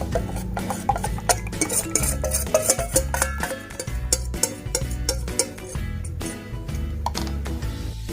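A spoon or whisk stirs takoyaki batter in a bowl, making quick, irregular clinks and scrapes against the bowl that repeat steadily for several seconds, close and fairly loud.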